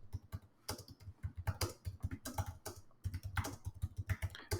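Steady typing on a computer keyboard, close and crisp, with quick irregular keystrokes running throughout and short pauses between bursts.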